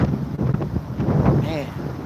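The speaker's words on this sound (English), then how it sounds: "Gust of wind, y'all. Gust of wind." Wind gusts buffet an outdoor microphone in low rumbling bursts, with a voice faintly audible underneath the blustery noise.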